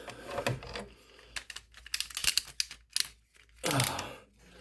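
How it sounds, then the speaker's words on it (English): Plastic clicks and ratchety snaps from the legs of a Transformers Studio Series 86 Slag action figure being folded down, arriving in short irregular bursts up close with brief pauses between them. "Go ahead and fold down his legs."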